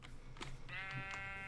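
A goat bleats in the Minecraft video game, giving a single wavering, synthetic-sounding call at moderate loudness, with a short lower grunt just before it and no speech.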